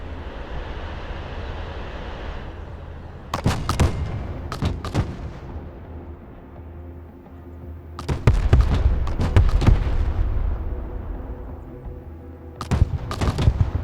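Artillery fire mission in the video game Broken Arrow: repeated loud, booming volleys of cannon shots crack out in clusters, each followed by a long rumbling echo, over a steady low background drone.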